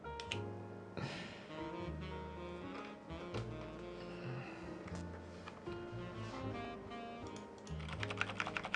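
Typing on a Magicforce 68 stock mechanical keyboard sounds as a quiet run of irregular clicks and clacks, close but faint, over a low background hum and with no speech.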